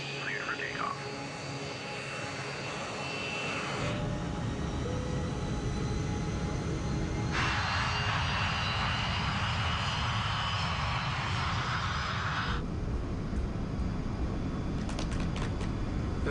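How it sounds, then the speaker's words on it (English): Jet airliner engines roar during a night takeoff roll at Panama airport, a steady, loud, broadband rumble and whine that shifts in tone in several stages. "runway 21 left, cleared for takeoff"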